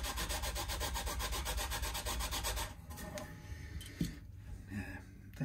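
A file or levelling beam rubs back and forth across the frets of a Firebird guitar kit in fast, even strokes, close and steady, then gives way to quieter scattered scraping and taps.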